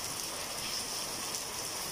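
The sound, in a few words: rain falling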